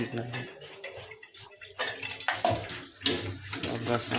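Tap water runs and splashes as hands are washed under it, an uneven close gurgling stream with voices talking over it.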